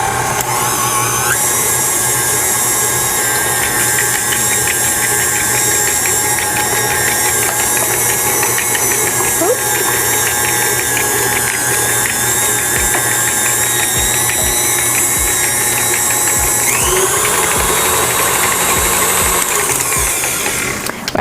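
An electric mixer whips sweet potato and butter into a fluffy mash, giving a steady, loud motor whine that runs nonstop and steps up in pitch as the speed increases near the end.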